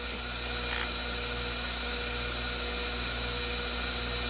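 An OMP Hobby M4 RC helicopter with its blades removed, running on the bench in idle up 2 with the main rotor head spinning at about 5,000 RPM, gives a steady, faint, high electric whine with no talk.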